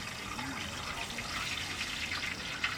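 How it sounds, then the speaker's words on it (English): Steady watery trickling and splashing, continuous throughout, as oil drips and runs off a freshly fried turkey into a pot, with faint background noise. "That's just the dripping from the turkey."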